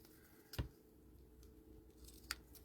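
Ribbon scissors trim the tails of a thin ribbon on a paper tag, giving two crisp close snips about two seconds apart against a quiet background.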